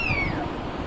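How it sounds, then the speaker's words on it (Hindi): A kitten gives a single short, high meow that slides downward in pitch, heard over a steady background hiss at moderate volume. "देखो घूमने वाली बिल्ली के बच्चे"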